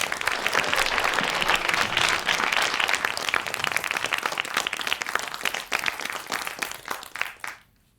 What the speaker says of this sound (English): Big round of applause for nobody else than Nico Shaw